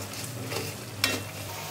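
Biryani spice masala with ground nuts, chili, coriander and biryani spice frying in a pan, a steady close hiss of sizzling with a few scraping stirs, one sharper clatter near the middle.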